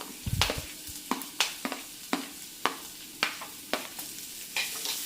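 Chopped onion frying in a pan with ginger and green chili for an eggplant curry, with a steady sizzle under a series of sharp spatula scrapes and taps, close and fairly loud, and no voices.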